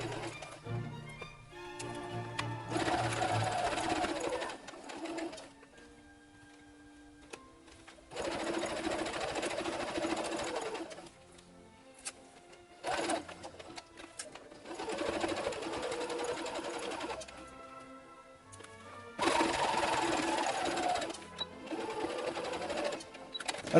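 A sewing machine with a fresh needle stitches fabric for a costume officer's hat in several rapid, rattling runs of a few seconds each, separated by short quiet pauses.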